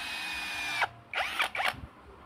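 Power drill spinning a freshly resharpened drill bit in short bursts, a steady whine cut by brief gaps and changing pitch, close and fairly loud with no talking.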